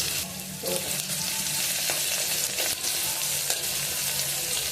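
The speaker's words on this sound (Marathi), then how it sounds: "लसूण छान परतून घ्यायचा." Crushed garlic and cumin seeds sizzle in hot oil in a pan, a steady close crackling fry with a few scraping stirs, no voices.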